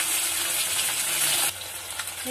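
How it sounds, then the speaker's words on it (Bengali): Fish sizzling and frying in a pan, a steady dense hiss of hot oil that holds up close and loud, easing slightly partway through, with no voices. "এইভাবে আমি ভাজা করছি মাছটা"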